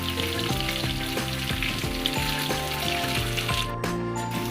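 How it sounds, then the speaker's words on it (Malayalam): Chicken pieces fry in hot oil in a pan for a Kerala-style thattukada chicken, giving a loud, continuous sizzle with faint metallic clinks, with no voices. "ഇത് ഫ്രൈ ആക്കിയിട്ട് എടുക്കണം"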